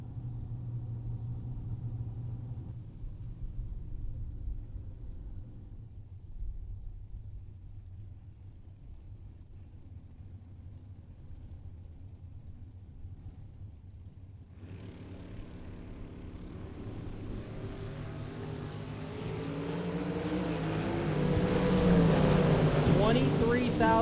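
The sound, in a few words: pickup truck and dragster launching in drag race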